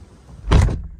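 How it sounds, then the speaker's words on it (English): A car door on an Alfa Romeo GT 1.9 JTDM is shut once, giving a single close, solid thud of about a quarter second after quiet background noise. "they have the camera like there, and then they shut the door"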